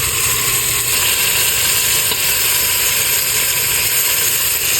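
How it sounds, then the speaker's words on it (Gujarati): Raw prawns go into a hot pan of oil for a Gujarati red prawn curry, giving a steady, loud, dense sizzle that holds evenly throughout with no talk over it. "હવે આમાં નાખી દઈશું આપણે ઝીંગા આપણે ઝીંગા નાખી રહ્યા છીએ"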